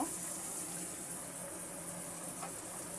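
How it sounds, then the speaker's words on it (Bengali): Water poured into a taro and hilsa fish curry gravy as it cooks, a steady continuous pouring rush close by with no voices. "আমি ঝোলের জন্য আর একটু পানি দেব"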